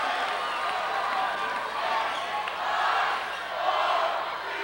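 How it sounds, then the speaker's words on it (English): Basketball game crowd in a gym during a quarter's final seconds, a dense, loud roar of many voices counting down, rising and swelling in waves throughout. "Here the crowd counting down"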